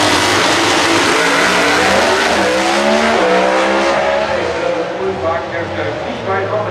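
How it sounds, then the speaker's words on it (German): A Pro Stock Dodge Avenger drag car makes a qualifying run at NitrolympX 2013. A loud, continuous engine roar and high revving fill the whole stretch, with race commentary talking over it. "Und Ulf Wagnhester kommt auf die rechte Seite mit seinem Dodge Avenger"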